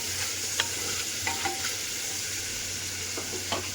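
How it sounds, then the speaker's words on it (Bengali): Soaked cashews and raisins fry in a pan over low heat, giving a steady broadband sizzle with a low hum beneath and a few light stirring clicks scattered through. "এখন আমি এটাকে ভালো করে ভাজবো হালকা আঁচে।"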